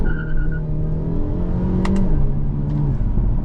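A 2025 Hyundai Elantra N accelerates in manual mode, its engine holding a steady, loud drone that steps up and down in pitch through the run, with faint whirring and no talk over it.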